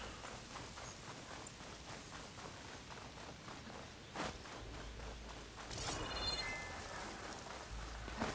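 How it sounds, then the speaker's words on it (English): Steady rain in a desert in the video game Horizon Forbidden West patters throughout, with a few louder thumps and a brighter gust of spatter near the end, no voices present. "It's weird how it's like raining in a desert."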